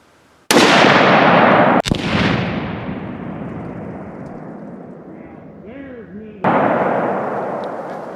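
A HOWA Model 1500 rifle in .308 Win fires outdoors: a loud sharp blast with a long rolling echo, a brief crack soon after, then another heavy report several seconds later, with faint sounds between.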